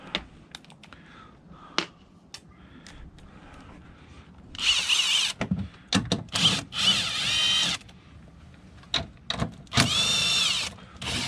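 Power tool, likely an impact driver or drill, removing 10mm bolts from a Chevrolet Tahoe water pump: several loud whirring bursts of a few seconds each, separated by clicks, clanks and handling noises in a quiet workshop.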